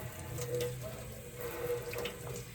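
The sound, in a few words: rinsing hands under a water tap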